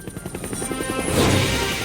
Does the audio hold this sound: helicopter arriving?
yes